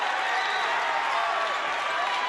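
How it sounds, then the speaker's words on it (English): A basketball crowd roars steadily in an old gym during a state high school semifinal, a dense wash of cheering filling the hall without a break. "The crowd behind us, I hope you can hear them."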